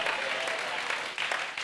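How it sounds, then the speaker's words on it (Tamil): Congregation clapping hands during a church watch night service, dense steady applause from many people filling the room, continuous and moderately loud. "Let's clap loudly."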